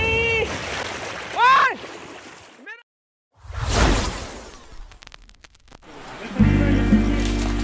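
Someone wades across a hill river outdoors, and the water splashes and churns in a loud burst midway. Brief voices and whistle-like calls come before it, and a low rumbling rush follows.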